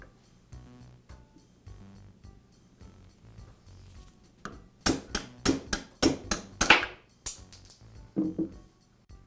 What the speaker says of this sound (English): I'll use a socket to tap the bearing out of the housing